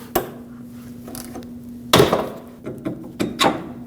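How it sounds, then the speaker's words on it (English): A tie rod separator tool forces a stud out of an aluminum steering knuckle on a 2006-2015 Lexus IS250, giving a few sharp metallic clicks and cracks at irregular intervals against a quiet background. "I'm using a tie rod separator tool that's going to push the stud out of the knuckle"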